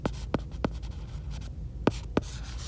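Pen strokes as a math answer is written out on paper: a handful of short, crisp scratchy taps, close and fairly soft, coming in two small clusters with a brief pause between.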